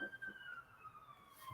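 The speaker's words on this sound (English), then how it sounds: "Oh, that was ambulance." An ambulance siren wails faintly outside amid city traffic, a thin steady tone gliding slowly downward at a distance, with brief low sounds around it.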